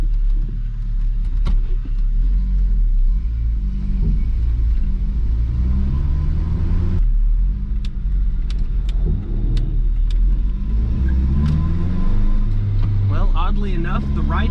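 A lowered Ford Ranger pickup drives out of a driveway, its steady low engine rumble and road noise continuous throughout with a brief shift midway, while someone talks over it.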